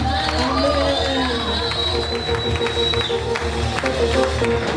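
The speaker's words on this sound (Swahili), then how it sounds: "Pigia Yesu makofi." A church congregation at a pastor's ordination applauds for Jesus, loud, dense clapping mixed with crowd cheers and voices that fills the whole stretch without pause.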